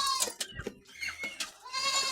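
Goats bleat repeatedly on a farm, several wavering calls coming close and fairly loud, one after another with short gaps between them, and no talking is heard.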